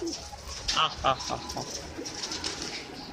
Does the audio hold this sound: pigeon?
yes